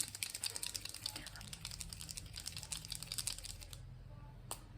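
A new pen being shaken and its tip pressed repeatedly to activate it, a dense run of quick small clicks and rattles that stops near the end, with faint talk in the background.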